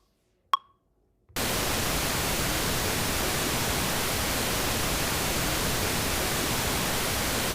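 A single sharp click sounds in near silence, then synthesized white noise cuts in as a loud, even, unbroken hiss that runs to the end.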